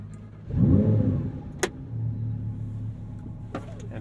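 A supercharged 840-hp Lamborghini Huracan STO V10 fires up with a loud rising roar, then settles into a deep, steady idle rumble up close, with a sharp click partway through and another faint click near the end.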